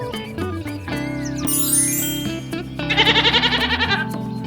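A goat bleats in a quavering, wavering cry over a backdrop of tinkling bells and sustained musical tones, the bleat rising in a rapid tremolo near the end.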